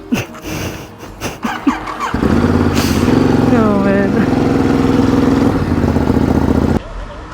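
A motorcycle engine running steadily on an Alpine mountain road near the Grossglockner, loud and close with a sustained droning hum, briefly under a man's short spoken remark at the start.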